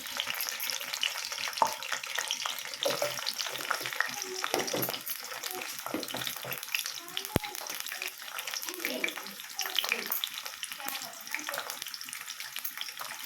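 Green chilies and then onions fry in hot oil, giving a steady close sizzle with scraping stir noises, while a voice talks intermittently over the cooking.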